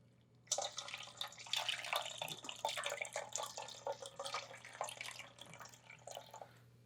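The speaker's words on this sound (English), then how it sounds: "Give our red beans a quick rinse with water." Red beans rinsed under running tap water in a kitchen: a steady splashing, trickling stream with irregular drips and spatter, close and fairly faint, with no talking.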